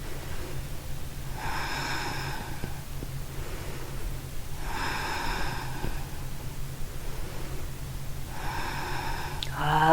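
Slow, steady breathing while holding the Warrior 3 pose in a hatha yoga class, hands on the waist. Three soft, drawn-out breaths come at even intervals over a quiet room hum.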